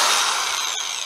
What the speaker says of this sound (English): plug-in drill, Craftsman, and it works as good as the day that I got it